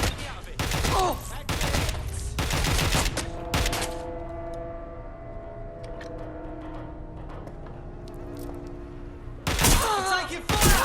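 Gunfire erupts in the video game Watch Dogs Legion in loud, close bursts of rapid automatic shots, first as several volleys, then a quieter humming lull with scattered clicks, then another heavy burst at the end; a voice is heard.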